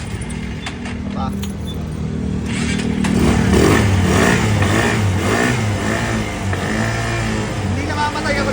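A Kawasaki Barako fuel-injected tricycle motorcycle that stalls right after starting is cranked in first gear. After some clicks and rattling, the engine catches partway through and keeps running close by, with someone talking over it.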